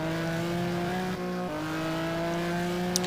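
A GT1 race car on the Road America circuit brakes hard into a corner, its loud steady engine tone dropping briefly before climbing again as it powers out, close and continuous with no talk.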